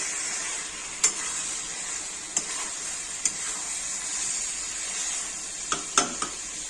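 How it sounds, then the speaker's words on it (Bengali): Mutton curry spice paste frying in oil in a pan gives a steady hiss of sizzling, broken by a handful of sharp clinks and scrapes from the stirring spoon. Nobody talks. "দেখছেন কত সুন্দর করে কষছি।"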